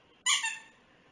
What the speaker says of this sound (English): This must be, an octopus with a squeaker.